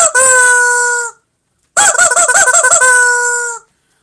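A squeezable rubber chicken toy serving as a doorbell gives two loud squawks, a long steady screech and then a pulsing, warbling one, with no voices.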